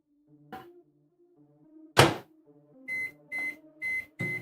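A microwave oven makes a few soft thumps and a loud clunk as its door shuts, then gives four evenly spaced electronic beeps, close and clear in a quiet room.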